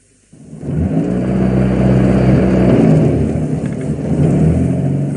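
A car engine in a French radio drama starts up and revs steadily as the car drives off, loud and close, sustained for about five seconds with no talk over it.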